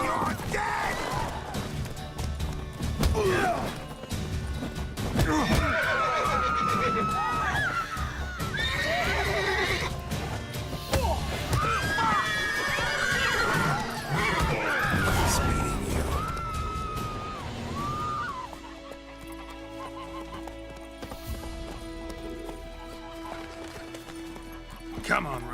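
The horse Roach whinnies repeatedly in a video game, with galloping hoofbeats beneath loud, overlapping voices and shouting before the scene quiets to a lower hum.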